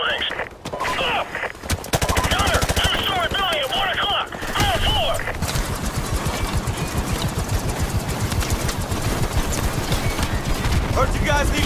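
Sustained machine gun fire rakes buildings in Modern Warfare as a dense, loud, steady rattle of rounds that lasts most of the stretch. Chirping radio or effects sounds and voices are mixed in early on.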